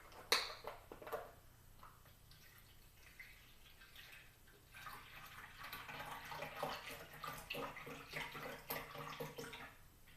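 Broth pours into a soup pot for chicken noodle soup, a soft splash at the start followed by a steady, gurgling stream of liquid that grows fuller in the second half, fairly quiet and close.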